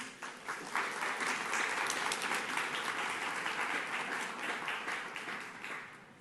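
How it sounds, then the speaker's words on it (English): An audience welcoming speakers onto a fashion panel with steady, sustained applause: dense crowd clapping that swells in and holds for several seconds, moderately distant, no talk over it. "Give them a warm round of applause as they come."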